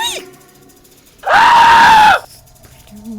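A loud, sustained scream in the video game The Floor Above, lasting under a second, bursts out against quieter in-game ambience and faint tonal sounds.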